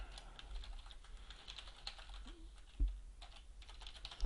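Quiet, close keystrokes on a computer keyboard, a steady patter of soft clicks with a slightly louder tap near the end.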